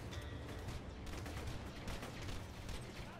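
Gunfire in Borderlands 2, a rapid, unbroken stream of overlapping shots and bursts like a frantic firefight, loud and steady from start to finish.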